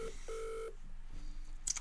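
Telephone keypad dialing in a Who Wants To Be A Millionaire video game: two clear electronic dial tones, then a quieter tone and a short bright chime, with no voices.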